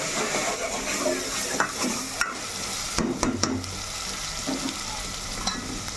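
Masala mixture is stirred slowly in a hot pan under a constant sizzle. Utensil scrapes and light knocks come through over six seconds, with no talking.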